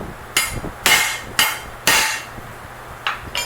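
Hammer blows strike a metal plate on an old Nissan Hardbody truck, five sharp, loud metallic impacts spaced unevenly with quiet gaps between them.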